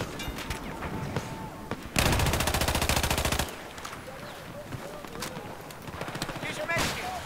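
Sustained rapid-fire burst from an MTAR-21 rifle in Battlefield 4, a dense loud rattle lasting about a second and a half, with scattered single shots before and after and someone talking underneath.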